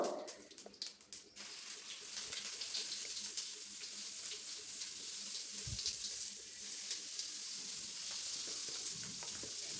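Drumstick leaf chutney sizzles steadily in hot oil with mustard seeds, a continuous bright frying hiss with a few scraping stirs and a brief clatter near the start, no voices.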